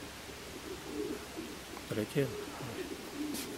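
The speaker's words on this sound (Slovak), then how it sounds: "že aké holuby chovate, aké línie, aké pôvod?" Domestic pigeons kept by a Slovak racing-pigeon breeder coo in low repeated phrases near and far, while someone speaks briefly over them.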